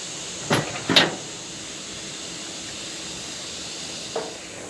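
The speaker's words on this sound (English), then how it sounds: "We'll take the 4 screws off and take a look inside." A few sharp metallic clanks and knocks as screws come out and the top lid is lifted off an outdoor AC condenser unit, two close together near the start and one fainter later, over a steady background hiss.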